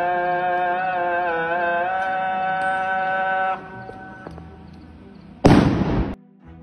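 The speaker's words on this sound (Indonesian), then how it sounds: "tentara Israel itu sengaja merekam diri melempar granat ke dalam masjid yang sedang mengumandangkan azan" A grenade thrown into a mosque by an Israeli soldier: a sung call to prayer carries through the first half, followed after a pause by one loud, abrupt blast that quickly dies away.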